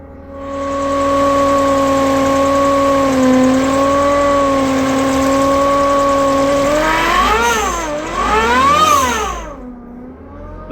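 Mazda MX-5 NB with a 1.8 VVT engine and an Eaton MP45 supercharger fires up for the first time, settling into a loud, steady high-pitched whine that climbs and falls sharply twice as the engine is revved near the end.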